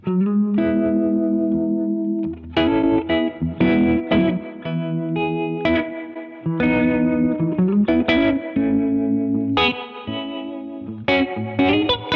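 Electric guitar played through stacked overdrive pedals with reverb and harmonic tremolo, a run of distorted chords and sustained notes with pulsing, shimmering tails, loud and close, with no talking.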